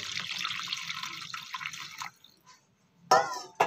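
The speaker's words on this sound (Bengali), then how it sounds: "এখন আমি জল দিয়ে দেবো" Water poured into a pan of bottle gourd kofta curry: a close, steady splashing pour for about two seconds, then near silence, then a short louder splash and a final brief drip.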